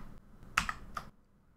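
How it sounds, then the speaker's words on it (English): A few crisp, close clicks sound as Shift and Delete are pressed on a computer keyboard, with quiet between the presses. "simply press Shift plus Delete key on your keyboard"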